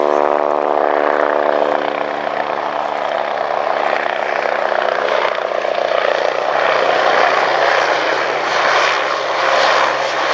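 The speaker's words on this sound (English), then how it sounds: "designed as an anti-submarine and reconnaissance helicopter" A small Westland Wasp naval anti-submarine helicopter flies close by at an airshow, its loud turbine whine and rotor drone holding steady throughout with no one talking.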